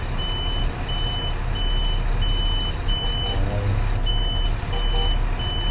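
A lorry reverses on a busy road in the Jammu hills, its warning beeper sounding in steady regular pulses over a constant low engine rumble, with a couple of brief gaps.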